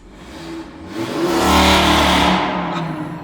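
Tuned Audi RS3 with about 510 horsepower launching hard under launch control, the engine note rising quickly to a loud roaring peak and then easing off, close and without talk.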